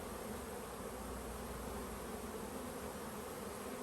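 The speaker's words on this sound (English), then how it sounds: "This is a lot of bees up here." A dense swarm of honey bees crowds an open honey super in a hive, giving a steady, close, full-bodied buzzing hum that holds even and unbroken throughout, with no voices.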